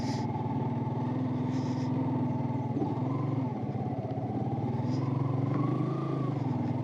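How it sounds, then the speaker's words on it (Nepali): A motorcycle engine labors steadily on a slippery muddy road, revving with a rough, continuous drone as the bike gets stuck, close and fairly loud with no talking. "बाइक गाड्यो।"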